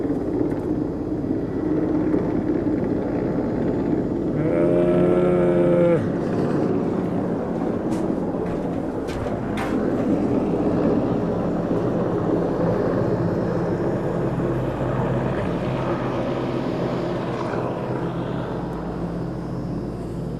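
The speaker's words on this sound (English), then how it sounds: "We got a helicopter landing right outside the window." A steady, loud engine drone with low rumbling fills the scene as a helicopter lands nearby, in Nepal, with a brief tonal whine partway through.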